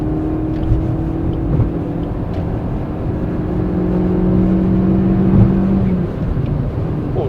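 Modified Suzuki Swift Sport (ZC33S) engine pulling hard in second gear, a steady droning tone heard from inside the cabin that rises gradually in pitch over several seconds, loud and continuous with road noise underneath.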